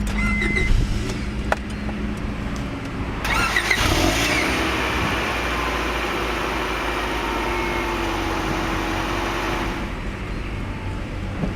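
A 1999 Honda Prelude with a five-speed manual cranks over and fires up, then settles into a steady, loud, close idle with a continuous exhaust drone, preceded by a few clicks and thumps.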